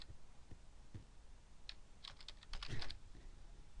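Fingers type a short burst of key presses on a computer keyboard, a few scattered clicks followed by a quicker cluster of taps, close up and fairly quiet with no talking.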